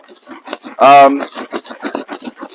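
Leak-detection compound is rubbed onto a leaky pad in a run of quick, rhythmic scrubbing strokes close up, with a brief voice cutting in partway through.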